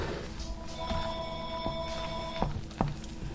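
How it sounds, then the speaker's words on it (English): A telephone rings in a home kitchen during baking, a thin electronic tone pulsing in short steady bursts at moderate distance, over faint room noise and a few clicks and knocks, with no talking. "You know why the phone's ringing?"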